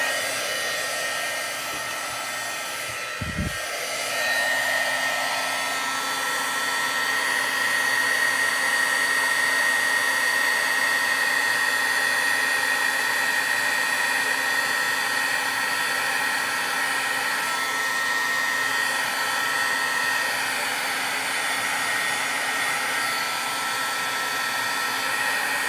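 A Wagner heat gun blows with a constant, loud whooshing whine that holds steady from start to finish, a brief thump near the beginning, with no talk over it.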